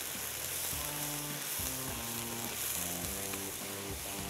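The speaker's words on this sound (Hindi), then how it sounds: "दूध शामिल करने के बाद इसको ज़रा मिक्स किया।" Sugar and milk are stirred together in a pan, heard as a steady soft sizzle with a faint scraping beneath it and no speech.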